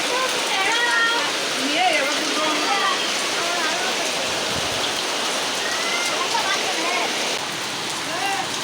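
Steady heavy rain drums on a tarpaulin, a thick continuous wash of water noise that stays even throughout. Faint voices come through under the rain now and then.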